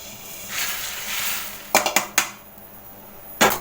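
Roasted coriander seeds tipped from a pan onto a plate, starting with a soft rushing hiss of pouring seeds, then several sharp metallic knocks and scrapes of the pan against the plate, close and clear.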